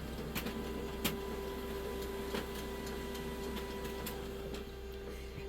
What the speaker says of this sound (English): that's my printer going